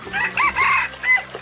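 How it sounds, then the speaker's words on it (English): A rooster crows in a loud, close, drawn-out call with a few stretched notes and a short final flourish, alone and with no talk. "Chicken."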